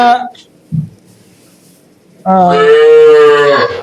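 A cow on a farm moos once loudly and up close, a long drawn-out call held for over a second, after brief talk and a short thump in a quiet barn.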